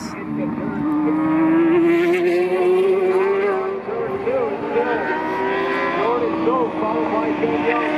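Superbike motorcycles race in a pro superbike event at a motorbike fest, their engines a loud sustained whine that rises and shifts as bikes pass, heard from trackside while a person talks over it.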